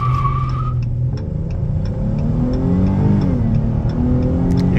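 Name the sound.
2024 Dodge Charger 3.6 V6 launch control acceleration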